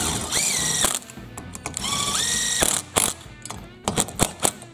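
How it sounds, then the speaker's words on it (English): Impact wrench removing the clutch from an Echo SRM-280 weed trimmer, with sharp bursts of rattling hammering and brief whirring runs separated by short pauses, close and loud. "is he really gonna use that impact to remove that clutch?"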